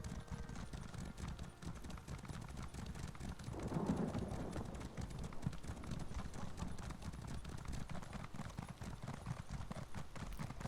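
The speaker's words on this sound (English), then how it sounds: "Still weird that there's a Gloomspore horse here" Hooves of a Gloomspore fungal horse in the video game The Elder Scrolls Online clop along in a steady, quiet gait, with faint ambient game sound behind.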